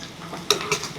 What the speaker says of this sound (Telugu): మంచిగా వేగనిస్తున్నారు ఉల్లిగడ్డని